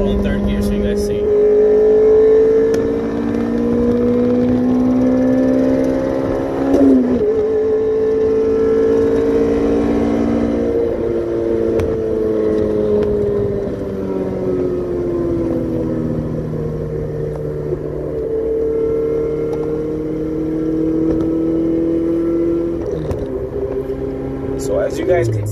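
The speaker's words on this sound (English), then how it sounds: "I'm gonna do full throttle in third gear" A car accelerates at full throttle in third gear, its engine drone climbing steadily in pitch with brief dips as it pulls hard, loud and close from inside the car for the whole stretch.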